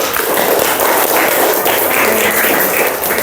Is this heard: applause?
yes